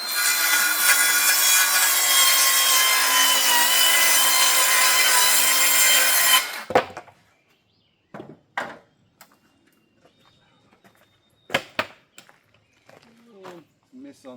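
Handsaw cutting through a wood board while building a wood stove room, a loud continuous rasping stroke that stops abruptly, then scattered knocks and handling noises with a person speaking.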